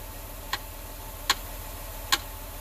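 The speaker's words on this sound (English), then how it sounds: "I'm just going to tap on the computer while it holds that there." Three light, evenly spaced taps land on the engine computer of a 2005 Ford Escape with an engine misfire, each a crisp click over a low, steady hum.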